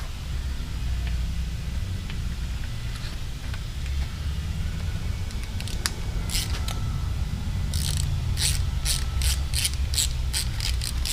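Torque wrench clicking while tightening bolts on a Milwaukee 8 128 engine during a gear drive cam install, a series of sharp ratchet clicks and snaps growing faster in the second half over steady low shop hum, with no talking.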